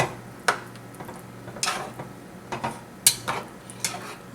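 A utensil stirring beef in green sauce in a pan over low heat makes scattered, irregular clinks and scrapes against the pan, close and moderately soft, over a quiet background.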